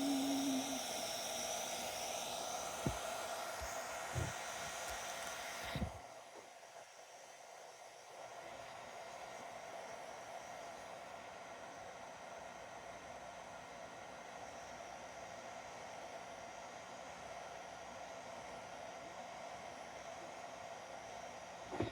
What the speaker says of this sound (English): Turn off the heat gun.